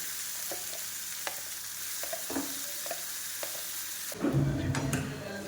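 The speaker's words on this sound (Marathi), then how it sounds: "ती छानपैकी आपल्याला फ्राय करून घ्यायची आहे." Soft frying sizzle of green coriander chutney in a wok with occasional clinks and scraping of a spatula, then a louder burst of sizzling and stirring near the end.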